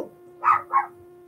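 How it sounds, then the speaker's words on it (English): A dog gives two quick barks in a row, moderately close and fairly loud, at home during a knitting and craft chat. No one speaks. "Barking at nothing."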